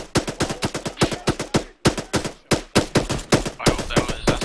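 Rapid bursts of gunfire during a military realism training exercise by a Marine Expeditionary Unit, loud and close, sharp repeated shots in quick irregular volleys with brief pauses, no talk.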